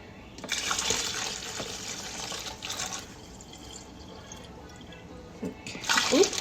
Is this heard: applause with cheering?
no